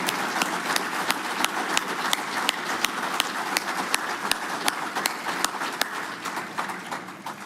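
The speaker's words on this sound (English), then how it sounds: "Y'all please give these folks a big round of applause." An audience applauds veterans at an electric cooperative's annual meeting, a scattered, fairly faint clapping with distinct individual claps standing out over a soft crowd wash, slowly thinning toward the end.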